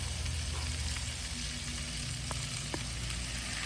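Sirloin strips sizzle in a camping stir fry, a steady close frying hiss with a few light clicks from stirring, no voices over it.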